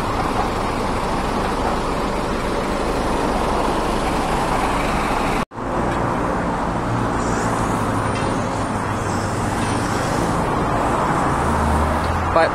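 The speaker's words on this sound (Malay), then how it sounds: "KL ni banyak kereta besar-besar." Busy city road in Kuala Lumpur with large vehicles passing near a roadside work site: a steady, loud wash of traffic and engine rumble, broken by one brief dropout midway, with no talk.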